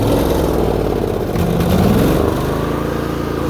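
A quad ATV engine, rigged with a homemade lawn mower attachment, runs on choke with a rough, steady mid-pitched drone that briefly swells, loud and close.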